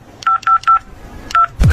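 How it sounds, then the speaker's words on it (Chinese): Telephone keypad tones beep on a phone set to speakerphone, four short evenly spaced dial tones followed after a pause by a fifth, then a louder burst of sound at the end. "打吧，看免提。"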